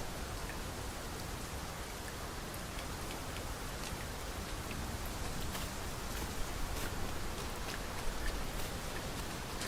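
Rain pours steadily in the video game Dragon's Dogma 2, a constant soft hiss with scattered droplet ticks and no voices.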